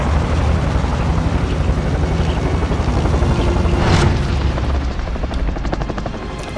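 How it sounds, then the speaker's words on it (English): A helicopter in a shooter video game thunders close by, its rotor beating in a loud, steady throb with a brief swell midway and no voices over it. "To get the chopper or not to get the chopper, that is the question."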